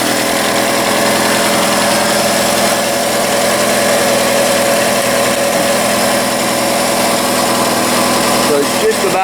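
A 1982 third-generation Chevrolet Camaro, fed non-ethanol gas from a fuel cell, idles loudly and close by after its first start in 20 years, holding a steady, even drone with a slight vibration throughout.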